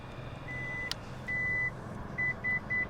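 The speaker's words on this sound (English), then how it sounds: "When you hear the beeps, let go of the button and it will fold and tumble forward." Electronic warning beeps from a Lexus LX 600 power-folding seat: one long tone, then a second long tone and three short quick beeps, clear and close over a quiet cabin hum.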